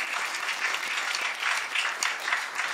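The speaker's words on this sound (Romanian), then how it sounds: "Hai să aplaudăm." A studio audience at a startup pitch show gives steady, dense applause that holds at an even level throughout, with no talk over it.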